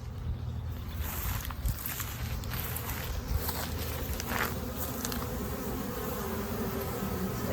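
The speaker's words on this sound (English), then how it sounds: "So as you can see, there's tons of activity in this hive." Honey bees swarm around a busy hive during an early-season inspection, producing a dense, continuous buzzing close by, with occasional louder passes of individual bees and faint handling noises underneath.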